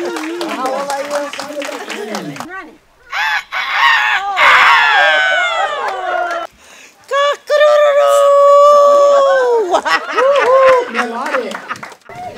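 Several people imitate a rooster's crow with their voices, loud drawn-out cock-a-doodle-doo calls repeated in close succession, mixed with cheering and laughter.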